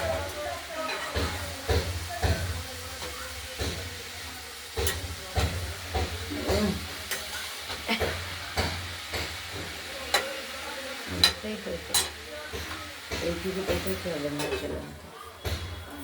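Cabbage curry with potatoes, peas and tomato gets stirred in a pan, with a low steady hiss of cooking under repeated scraping strokes, close by, and a voice talking at points throughout.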